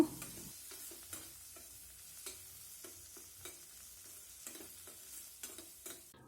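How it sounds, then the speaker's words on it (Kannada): Chopped tomato with a little turmeric powder frying in a pan for a Mangalore-style ridge gourd sukka: a soft, steady sizzle under regular scraping strokes of a spoon stirring about once a second, close by and with no voices. "ಈಗ ಈ ಟೊಮೊಟೊ ಸ್ವಲ್ಪ ಫ್ರೈ ಆಗಬೇಕು"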